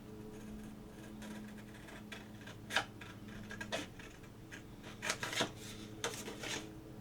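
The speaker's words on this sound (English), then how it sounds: "So cutting these out with scissors is fine because they're not perfectly shaped." Scissors cut paper Christmas ornament shapes: faint, irregular crisp snips and rustles, quiet and close, with no talking.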